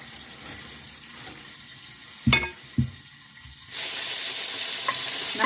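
Peppers from a greenhouse frying in a pan, a soft steady sizzle with a few sharp clinks of turning, the hiss swelling louder and brighter toward the end.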